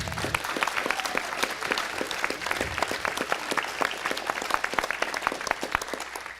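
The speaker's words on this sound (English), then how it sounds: "Don't they deserve a huge round of applause?" A city council chamber audience gives a long round of applause at a Las Vegas council meeting, sharp individual claps layered into a lively, sustained burst that carries on steadily without fading.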